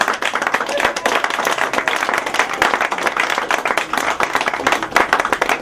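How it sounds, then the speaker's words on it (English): Loud, energetic audience applause and clapping at the close of a lecture, a dense, sustained patter of many hands with some crowd voices mixed in, continuing evenly for several seconds. "Give your brother Tahuti some more applause."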